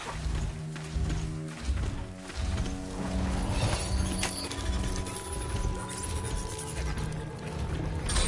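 Hooves of a horse in Horizon Zero Dawn clip-clop in an uneven rhythm under music and ambient game sounds, fairly close and moderately loud.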